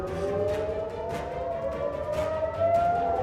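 Air raid sirens wail across northern Israel during a missile attack, a sustained rising-and-falling tone under broadband background noise, distant and continuous.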